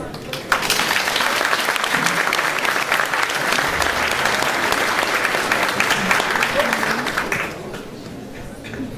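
Sustained loud applause from a school audience at an evening gymnasium event, steady clapping that fades slightly near the end.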